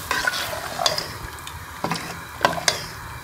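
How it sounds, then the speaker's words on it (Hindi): Rice being stirred into beef yakhni pulao in a pot, giving a few scattered scraping and clinking strokes over a soft simmering sizzle, close by with no talk. "और इसको अच्छी तरह से मिक्स कर लेंगे चावलों को।"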